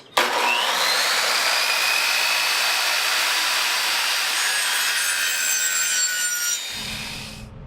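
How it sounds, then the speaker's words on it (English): A saw cuts wood trim during a camper build, a loud, continuous rasping stroke that starts abruptly and runs steadily for several seconds before easing off, close by and alone. "Alright, so I started cutting out all the trim."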